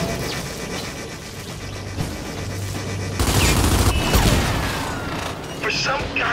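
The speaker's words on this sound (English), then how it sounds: "Try using blind fire to destroy them while keeping yourself protected and covered" Blind-fire gunfire in Gears 5, a dense, loud continuous burst of shots and mechanical clatter mixed with booms and game effects, with talking over it.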